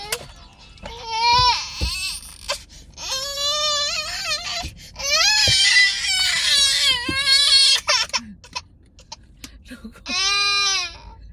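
A young child cries loudly in a car, several sobbing wails broken by short pauses and sniffles, with a few quieter stretches between bursts and one last long wail near the end.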